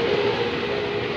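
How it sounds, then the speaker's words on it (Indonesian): A KRL commuter train departs Sudirman station in Jakarta, a loud, steady rumble of rolling stock with a sustained tonal whine running throughout, close by and with no speech. "Oke, ini keretanya berangkat dari Sudirman."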